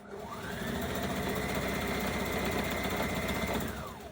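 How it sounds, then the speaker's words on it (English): Sewing machine stitching a skirt hem right at the edge beside the serging thread, one continuous close motor hum that ramps up, holds steady and winds down. "Place your hem under your machine, your skirt, and we will sew it right at the edge."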